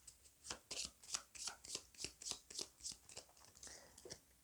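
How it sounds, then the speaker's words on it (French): Cards are drawn one by one from a deck for the Pandemic: Reign of Cthulhu board game, a quick run of soft, crisp slides and snaps at a steady rhythm, faint and close with no talking. "Pour cela, nous allons tirer 7 cartes."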